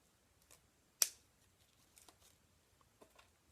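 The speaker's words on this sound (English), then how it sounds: "I'm just going to cut that piece out." A single crisp snip of scissors cutting through synthetic lace front wig hair, close and sharp, followed by faint handling rustles and a couple of softer clicks.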